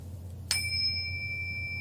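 A small metal chime is struck once, giving a bright attack followed by a long, steady ringing tone that sustains without fading much. It sounds alone and close.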